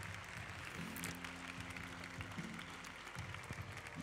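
Spectators applaud the horses' entry into the show-jumping arena at the Saut Hermès 2022 Prix Hermès Sellier CSI 5*, a sustained, moderately distant patter of clapping with faint tonal sounds underneath.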